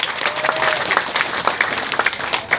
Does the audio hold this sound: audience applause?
yes